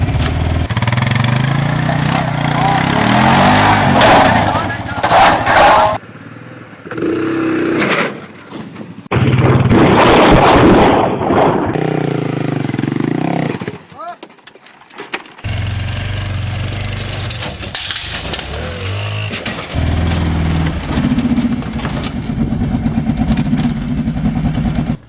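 Quad bike engine runs on an icy, slippery day, loud rough revving and idling that cuts out and restarts several times across the span.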